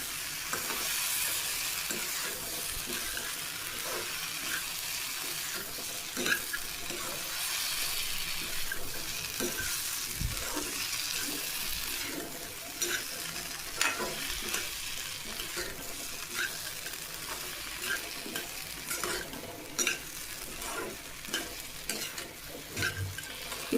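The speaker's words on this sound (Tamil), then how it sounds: "இப்போ இதை லேசாக வதக்கி விட்டுக்கலாம்" Ingredients for Tamil chicken kulambu sizzle steadily in a hot pan while being stirred, with scraping and light clatter throughout, close and continuous with no talking.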